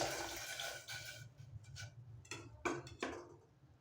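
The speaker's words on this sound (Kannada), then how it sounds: "ಇವಾಗ ನೀರು ಕುದೀತಾ ಇದೆ ನಾನು ಅದಕ್ಕೆ ನೆನೆಸಿಟ್ಕೊಂಡ್ರೆ ತೊಗರಿ ಬೆಳೆ ಹಾಕ್ತೀನಿ" Soaked toor dal is tipped into a small pot of boiling water while cooking radish dal saaru. Faint bubbling runs under a few soft splashes and wet plops near the end.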